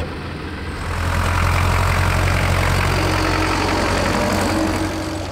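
Three-cylinder 48-horsepower Schlüter Super 450 tractor engine idling steadily at an outdoor field day, a low, even diesel rumble with a faint knock that holds close and constant throughout, no voices.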